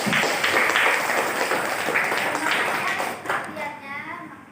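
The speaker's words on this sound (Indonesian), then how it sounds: "Tepuk tangan untuk kelompok" Students in a vocational high school classroom applaud a student group, dense close clapping from many hands that is loud at first and tapers off, with children's voices mixed in.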